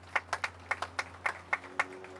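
Scattered, sparse hand claps from a small audience at a Louisville community facility, about ten distinct claps over two seconds, fairly close and unhurried, over a steady low hum.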